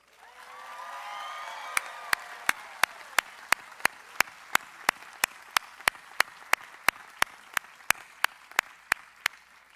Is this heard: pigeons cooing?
no